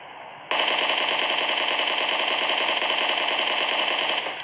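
Sustained automatic gunfire in the PUBG video game at Pochinki, a dense rapid burst that starts abruptly after a short lead-in and runs loud and steady for about four seconds before cutting off, with no voices.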